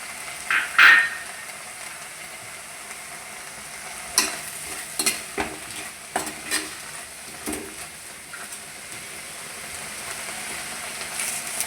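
Spiced chicken curry ingredients with crushed dried red chilli are stirred in a pan: a run of distinct scraping strokes against the pan over a soft sizzling hiss, close up and without speech.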